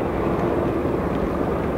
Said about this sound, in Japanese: 偵察能力および対空警戒能力に優れた観測ヘリコプターです。